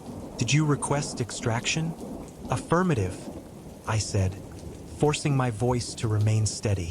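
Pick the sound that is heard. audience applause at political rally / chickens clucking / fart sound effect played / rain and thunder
rain and thunder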